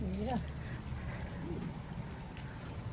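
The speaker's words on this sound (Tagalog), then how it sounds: "It's cold and raining." Steady rain falls on a cold, wet day, a continuous hiss at close range with a voice speaking briefly over it.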